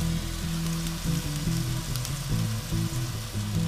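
Tuna searing in a pan gives a steady, close sizzle that runs throughout, beneath a prominent musical backing.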